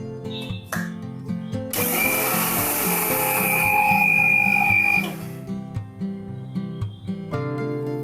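Poppy seeds mixed with white sesame are dry-ground in a kitchen grinder, a harsh whirring buzz that runs for a few seconds under background music, then cuts off.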